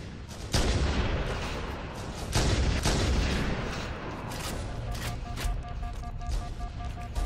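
Sniper rifle fire in a Halo MCC team snipers match, with two heavy booming shots early and further scattered reports amid dense game noise and rumbling.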